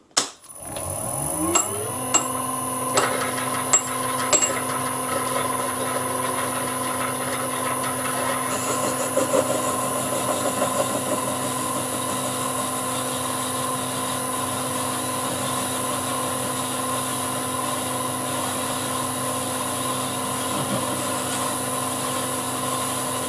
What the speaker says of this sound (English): Let's go back to the lathe. This hole needs to be a little bit deeper.